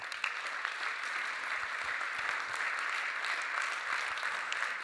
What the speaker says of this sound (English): please keep the applause going for our 37th inductee. A steady ovation, quite appropriate too